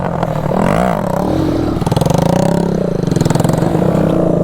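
A Bajaj CT 100 motorcycle revving hard for wheelie stunt practice, loud and close, its engine note rising and falling in a steady pulsing throb.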